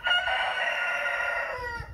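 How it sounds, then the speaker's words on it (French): A rooster crows close by in one loud, sustained call of about two seconds that fades at the end. "il y a mon coq à côté qui m'embête, il est très jaloux"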